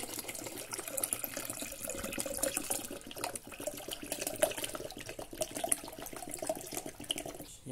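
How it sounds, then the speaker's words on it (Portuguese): Cold water is poured into a jar for plants, producing a steady, close splashing and gurgling flow that continues without pause. "Eu peguei também a água gelada, porque disse que é bom colocar água gelada para conservar mais."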